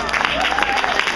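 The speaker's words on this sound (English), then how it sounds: "let's give a big round of applause" Audience applause for a book that has gone into a second printing, many hands clapping fairly loud, with a little crowd noise and faint talk mixed in.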